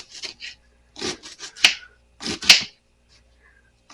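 Kitchen knife dicing an onion on a cutting board, a few quick uneven bursts of crisp chopping with two sharper cracks, close and otherwise quiet.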